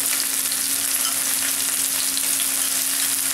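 Chopped ginger frying in hot oil in a pan while cooking liver fry, a loud, close, steady sizzle that holds unbroken throughout with no talk.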